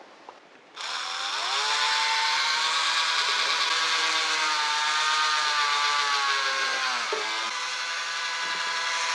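A power drill bores through timber on a hand-built spinning rod, spinning up abruptly to a loud, steady high whine, dipping briefly under load near the end, with no talk.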